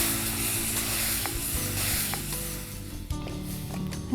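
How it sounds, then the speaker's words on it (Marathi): A sweet sattvik ladoo mixture stirred in a pan after the gas is switched off, giving a soft continuous hiss and scraping with a sharper knock near the end, no voices. "आता जरा ढवळते"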